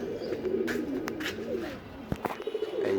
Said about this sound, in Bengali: এখানে দুইটা কবুতর ছাড়াইছে